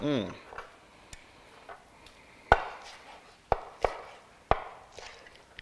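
A chef knife bias-cutting ingredients on a cutting board for a lobster stir fry, giving a handful of sharp, separate chops spaced unevenly over a few seconds, close and fairly quiet.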